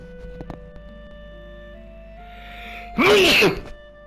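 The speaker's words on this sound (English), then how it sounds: "Had to sneeze." A single loud, sharp sneeze bursts out near the end after a few quiet breaths and faint background hum.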